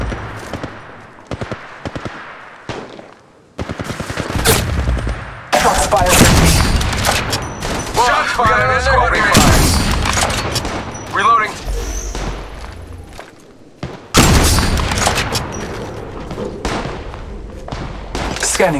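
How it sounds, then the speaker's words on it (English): Gunfire from the Apex Legends Mobile battle royale game: bursts of rapid shots and booming impacts come loud and close across the clip, broken by short quiet gaps, with in-game voice lines talking over the fighting. "Shots fired and they're reloading. I am taking fire."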